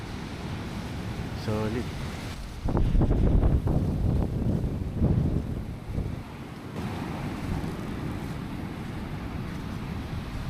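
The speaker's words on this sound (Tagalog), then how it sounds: "Lalaki ng alon, no?" Large ocean waves surge and crash amid strong wind buffeting the microphone, with a heavier roaring swell in the middle, while people talk nearby.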